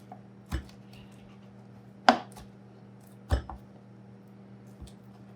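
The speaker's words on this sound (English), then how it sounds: "I'm gonna chop up my shrimp on the side and mix everything together" Shrimp roughly chopped for shrimp burgers with a knife on a cutting board, four sharp separate chops spaced a second or more apart over a steady low hum.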